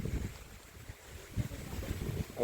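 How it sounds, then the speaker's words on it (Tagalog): Strong wind buffets the microphone at a campsite on a fruit farm in Bamban, Tarlac, with low rumbling gusts that swell and ease in uneven waves. "Grabe, lakas ng hangin."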